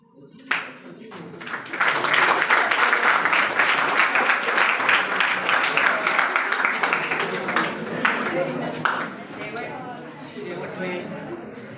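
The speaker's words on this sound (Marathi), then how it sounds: "त्याबद्दल त्याच्यासाठी जोरदार टाळ्या होत्या" Loud, sustained applause from an audience follows a powada performance, swelling after a single sharp clap and then slowly fading, with some crowd voices mixed in toward the end.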